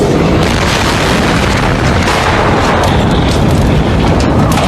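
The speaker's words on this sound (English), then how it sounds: "This is how the tanks are supposed to react, with their lids blowing off under high pressure." Fuel tanks explode at a burning storage site, lids blowing off under high pressure, heard as a continuous loud roaring blast that saturates the whole clip with no gaps.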